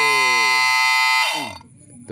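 A strange electronic sound said to hypnotize birds, loud and harmonic-rich like a buzzer or alarm tone, with a sweeping pitch, cutting off partway through and leaving low rumbling background noise.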